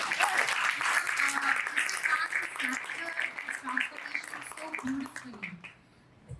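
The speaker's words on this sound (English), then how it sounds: "Can we get a round of applause for that?" An audience applauds at a conference fireside chat, steady clapping that thins out toward the end, moderately loud, with some voices under it.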